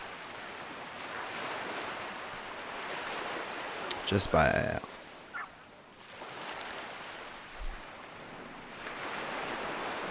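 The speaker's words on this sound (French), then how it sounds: "Fait du bien d'entendre le son de ces vagues-là" Ocean waves wash in a steady broadband roar through the clip, with wind buffeting the microphone and a person speaking briefly over the surf midway.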